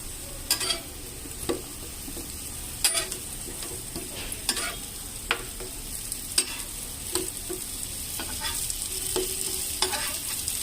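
Old ariselu, jaggery-filled rice sweets, warming in a pan with a soft sizzle under repeated scraping and stirring clicks spaced irregularly, close and fairly quiet, no voices.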